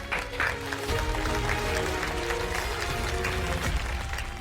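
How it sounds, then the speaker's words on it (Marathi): An audience gives loud, steady applause, a dense wash of many hands clapping at once that holds evenly through the whole stretch with no talk over it. "फार मस्त जोरदार टाळ्या होऊन जाऊ दे"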